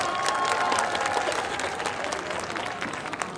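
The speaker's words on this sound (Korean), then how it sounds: "여러분 큰 박수로 맞이해 주십시오." An outdoor crowd at the 2019 Yeouido spring flower festival in Yeongdeungpo applauds a musical actress's stage entrance, with steady, dense clapping that holds loud throughout and a few brief high tones near the start.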